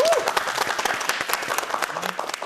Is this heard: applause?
yes